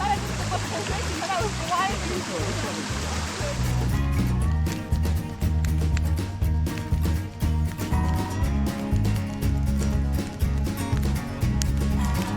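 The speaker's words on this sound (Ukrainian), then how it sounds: "І водоспад йде повним ходом." A Carpathian waterfall near Manyavsky Skete pours in a steady broadband rush, heard up close, with a deep rumbling low end, loud and continuous throughout, the roar shifting in texture partway through.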